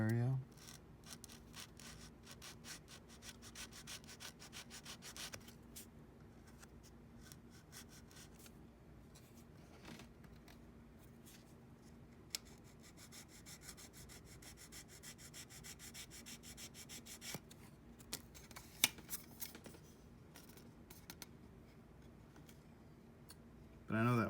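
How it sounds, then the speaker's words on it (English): Sandpaper rubs across a plastic scale model body of a 1953 Ford Victoria, a soft repetitive scratching close by, with occasional small clicks. "You can even sand this like this,"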